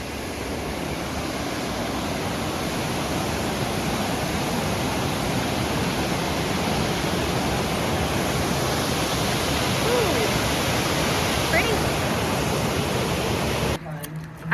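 Fast-flowing stream water on the Appalachian Trail in Virginia rushes in a steady, loud broadband roar throughout, ending with a brief handling noise.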